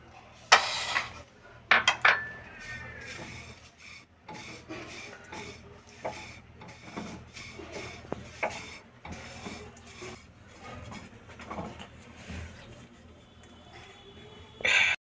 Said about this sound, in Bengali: কড়াইটা গরম হয়ে গেছে চিড়েটা দিয়ে দিলাম